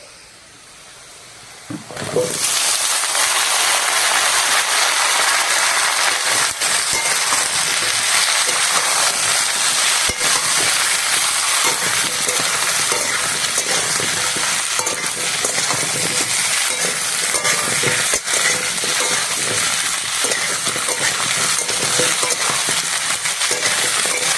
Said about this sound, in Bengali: আলু আর ফুলকপিটা ভালো করে ভেজে নিয়েছি